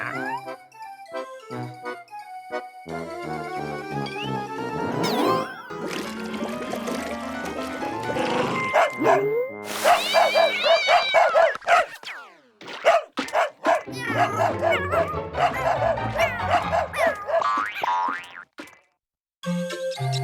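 Cartoon dog barking from an animated children's show, a busy run of loud, playful sound effects and musical stings with springy boings and yappy barks in quick succession, continuous and close.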